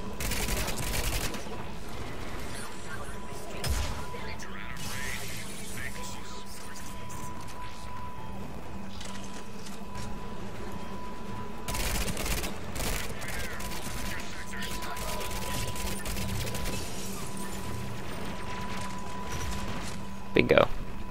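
Gunfire in Mass Effect 3 crackling in dense, sustained bursts across the whole stretch, with a steady tone and someone talking over it.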